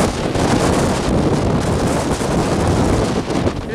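Strong, roaring wind gusts batter the microphone beneath a shelf cloud during a severe thunderstorm, a loud, continuous rush with no pause.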